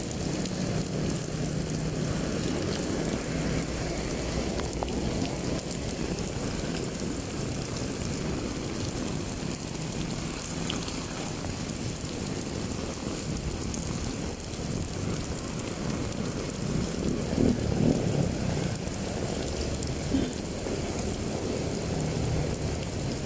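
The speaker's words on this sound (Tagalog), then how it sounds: "Oh, lakas ng ulan." Heavy rain pours steadily during flooding in Paco, Metro Manila, a dense, continuous hiss of downpour on surfaces and water that stays loud and unbroken throughout, with no talk.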